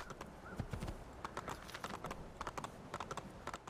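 Steady clip-clop of horse hooves trotting in Assassin's Creed II at a brisk, even rhythm, close and fairly quiet, with no talking.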